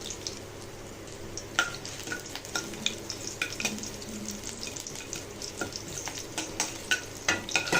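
Mustard seeds, curry leaves, chopped garlic and dried chillies frying in hot oil for a Tamil spinach dish, a steady close crackle and sizzle with sharp pops and spatters scattered throughout, no voices.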